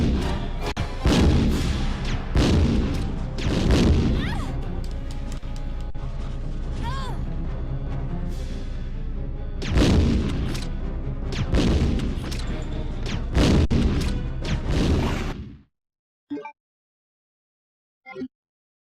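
Gunshots in a Resident Evil boss fight, loud heavy blasts fired in an irregular series with booming crashes between them, a voice talking over parts, ending in near silence with a few faint clicks.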